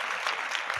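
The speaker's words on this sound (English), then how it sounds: "Let's give him a round of applause." Studio audience applause for a podcast guest, a dense, steady wash of clapping throughout the short moment, fairly soft and without speech over it.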